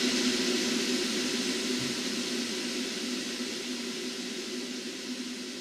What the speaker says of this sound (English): I just have these impacts that I created by using another Valhalla plugin, which is Supermassive